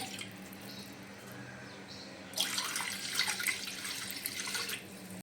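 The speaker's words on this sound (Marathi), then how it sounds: "त्याच वाटीने भरून वाटी मी दोन वाट्या पाणी घेणार आहे" Water from a tap pours into a bowl, measuring two bowlfuls for an instant rava medu vada batter; a quiet hum first, then a steady splashing gush for the last three seconds with no voices.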